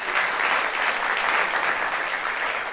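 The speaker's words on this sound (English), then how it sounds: "I got applause for that, Jim, just so you know." An audience applauding in a theater at a Broadway anniversary celebration, steady dense clapping throughout the whole span with no voices rising above it.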